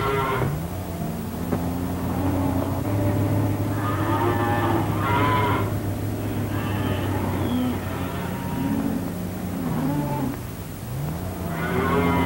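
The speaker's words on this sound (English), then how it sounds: "The moos take one look at me and know I mean business." Cattle mooing on a ranch in an old wartime comedy, several long, loud lowing calls in succession over a steady low background hum, with no talk.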